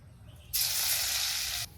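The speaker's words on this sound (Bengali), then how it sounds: "সর্ষের তেল শুকনা লঙ্কা অনেকগুলো রসুন থেতলে নিছি এটা ফোড়নে দেব" Crushed garlic and dried red chillies hit hot mustard oil in a Bengali tempering, bursting into a loud, steady sizzle that holds for about a second before cutting off sharply.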